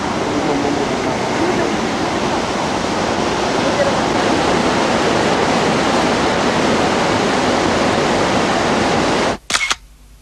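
Kegon Falls at Nikko, Japan: a loud, constant rush of falling water roars without pause, ending abruptly with a couple of short clicks.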